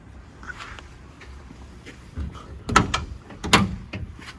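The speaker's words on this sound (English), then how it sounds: "them doors closed nice" Doors on a classic muscle car in a one-owner collection swing open and shut, heard as two solid, close thunks about a second apart with faint handling clicks and shuffling before them.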